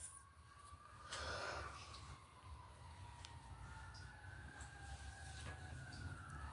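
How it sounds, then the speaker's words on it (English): Faint fire engine sirens wail in the distance, a thin wavering tone over low traffic-like rumble. "Y'all hear the fire engines?"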